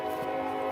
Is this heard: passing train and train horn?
yes